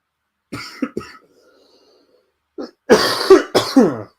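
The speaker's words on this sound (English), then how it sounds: "This cough is doing me head in." A few short harsh coughs close to the microphone, two quick ones, a pause, then a heavier burst of rough coughing.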